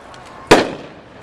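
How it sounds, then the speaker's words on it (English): A ring shell firework bursts in one loud, sharp boom with a crackling decay, heard outdoors at a consumer fireworks show. "A little ring effect there."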